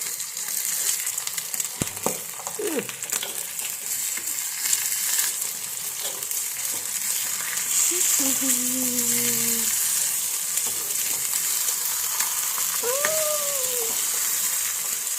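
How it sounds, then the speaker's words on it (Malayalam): Hot oil sizzles steadily around a frying country egg in a pan, a continuous crackling hiss with a few brief squeaks of a utensil scraping, no talking over it. "ഞാൻ ഇങ്ങനെ അങ്ങ് പൊരിക്കാറുണ്ട് കേട്ടോ ഞാൻ എനിക്ക് ഇങ്ങനെ പൊരിക്കാൻ ഭയങ്കര ഇഷ്ടമാണ്"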